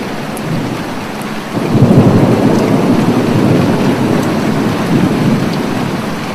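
Steady rain and rolling thunder ambience swell in about a second and a half in, then hold as a dense, loud wash of rainfall with a low rumbling undertone, with no voices.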